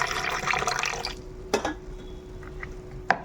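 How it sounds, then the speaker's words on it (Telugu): Soaked tamarind water poured into a mint chicken curry, a short splashing pour that stops after about a second, followed by a couple of faint drips and clinks. "ఇప్పుడు మనం నానబెట్టిన చింతపండు వాటర్ ఉంది కదా, అది వేసేసుకుందాం వేస్ట్ కాకుండా."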